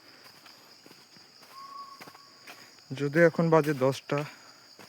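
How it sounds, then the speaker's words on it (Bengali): Crickets in Lawachara Forest at night keep up a steady, high continuous trill that runs throughout, with someone talking nearby in the second half. "ঝিঝি পোকার আওয়াজ।"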